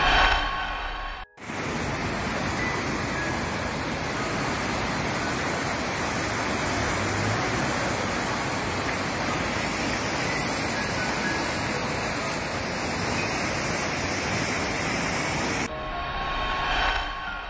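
The swollen Amajac river in flood in San Luis Potosí, a loud, continuous broadband roar of rushing water filling nearly the whole stretch, with brief breaks near the start and end.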